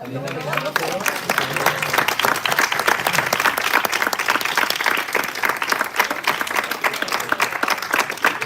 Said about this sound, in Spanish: nos acabamos con un aplauso